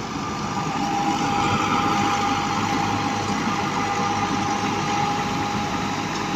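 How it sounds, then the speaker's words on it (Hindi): Tractor-driven straw chopper machine running in a farm field around Fort Abbas, giving a steady, loud engine drone with a constant mechanical hum that holds for the whole stretch with no talk. "जी चापर मशीन है।"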